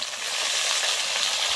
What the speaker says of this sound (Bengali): আমার তেলানিটা ভাজা হয়ে গেছে দেখুন। এখন আমি পুঁই শাকের